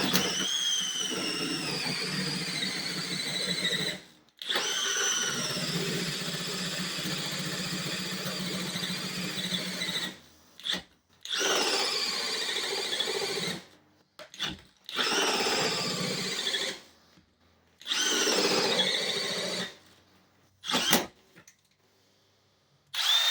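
A 3-inch hole saw on a power drill bores through the floor of a converted school bus, grinding loudly in long runs broken by sudden stops and restarts.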